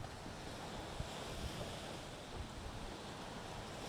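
Lake waves wash softly and continuously against the shore, mixed with steady wind noise, fairly faint and without voices.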